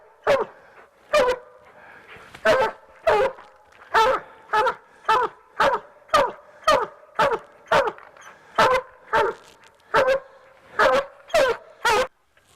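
Thorn, a coon hunting dog, barks at a raccoon treed in woodland, giving about eighteen loud, evenly spaced barks in a steady rhythm, close by and with no other sound between them.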